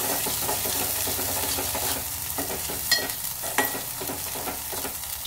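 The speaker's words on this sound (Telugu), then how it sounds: "అల్లం వెల్లుల్లి పేస్ట్ మంచిగా కలుపుకోవాలి" Ginger garlic paste fries in hot oil for a brinjal tomato curry, a steady close sizzle with scraping strokes as it is stirred and a couple of brief clinks.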